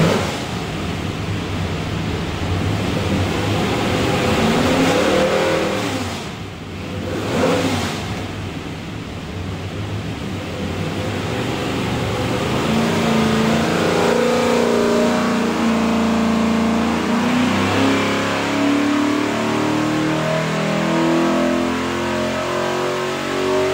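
A stacked 427 Windsor V8 for a Superformance GT40 MKI, fitted with an Aviaid oil pan, roars on a dyno, dipping briefly before climbing through a long, loud, rising wide-open pull.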